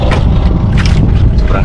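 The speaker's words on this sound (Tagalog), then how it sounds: "Sobrang hangin." Loud, buffeting strong wind roars against the microphone in rumbling gusts, close and overpowering, at sea on a fishing trip with boats moored nearby.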